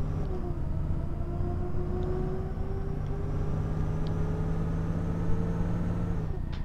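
Alexander Dennis E400 MMC double-decker bus engine in OMSI 2, Yorkshire Counties map, a steady low drone with a rising and falling whine, continuous and fairly close, with no talk over it.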